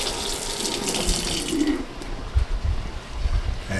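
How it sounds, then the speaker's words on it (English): A kitchen tap runs steadily into a sink while hands are washed during wing and honey glaze preparation, a continuous close hiss of water with a few soft splashes and knocks near the end. "Wash my hands real quick."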